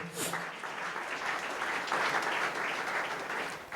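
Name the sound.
congregation applauding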